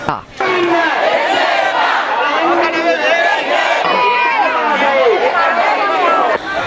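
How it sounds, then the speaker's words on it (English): A crowd marching in protest against the government near the Katharagama bus stand shouts loudly, many overlapping voices raised together in a dense, continuous chanting din. "the crowd marched to the Katharagama bus stand to voice their dissent against the government."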